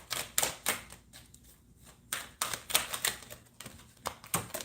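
A deck of stiff tarot cards being shuffled by hand: sharp, crackling bursts of card slaps in quick clusters, separated by short quiet pauses, close and fairly loud.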